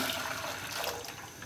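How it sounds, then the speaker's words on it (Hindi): Water pours into a cooking pot (dechki) as three cups are added for ginger tea, a steady soft rushing and splashing that runs through the whole brief moment without pause. "2 कप जिंजर टी बनाने के लिए हमें 3 कप पानी चाहिए होगा, 1 देचकी में हम डाल लेते हैं।"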